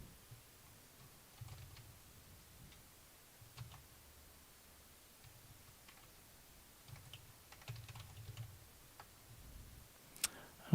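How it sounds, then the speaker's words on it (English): Quiet bursts of clicky keystrokes on a computer keyboard, typed in short uneven runs with pauses between them, faint and close with no talking over them. "Let's see if I can type in that and see."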